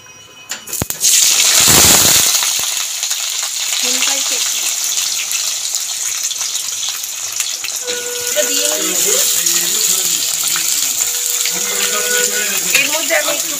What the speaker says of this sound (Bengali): এবার আমি এর মধ্যে আলু দিয়ে দেবো।